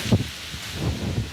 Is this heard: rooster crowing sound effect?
no